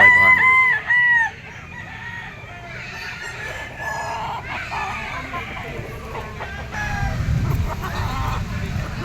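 A Gilmore Hatch Picom gamecock stag crows loudly and close in the first second, followed by scattered clucks and other fowl calls, with someone talking intermittently.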